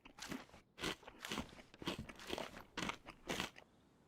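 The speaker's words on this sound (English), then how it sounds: "I'll have to eat the crisps now" Crisps are eaten close to the mic, with a series of loud, crackly crunches coming in irregular bites about every half second, and no talking.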